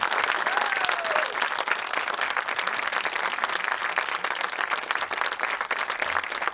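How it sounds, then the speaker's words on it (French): A theatre audience applauds Michel Blanc at a cinema masterclass, dense, even clapping from a large crowd that holds steady throughout. "vous pouvez le rapplaudir à nouveau"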